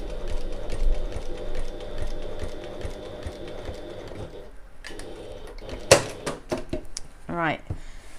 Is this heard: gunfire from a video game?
no